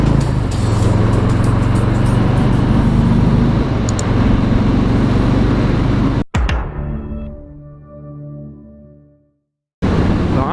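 Road traffic rolls past while out riding on the road, a loud continuous rush and rumble of passing vehicles and wind that cuts off abruptly, leaving a fading low hum, a brief silence, then the roar returning.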